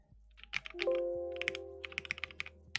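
Crisp custom mechanical keyboard keys clack in quick irregular bursts, close and clear, with a brief pause between flurries of typing.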